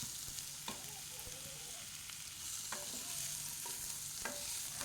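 Cut potatoes fry in a wok with tempering spices for aloo posto, a soft steady sizzle broken by sharp spatula scrapes and taps as they are stirred.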